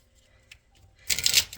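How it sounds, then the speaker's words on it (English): A quick burst of riffling cards, crisp and close, follows a few soft taps and handling noises. "I shuffled the Sun Tzu cards"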